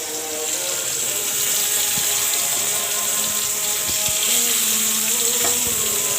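Turmeric- and salt-rubbed fish pieces fry in a little oil, giving a steady, close, broadband sizzle that holds for the whole stretch with faint clinks and bumps mixed in.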